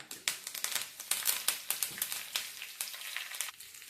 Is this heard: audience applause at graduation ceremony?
no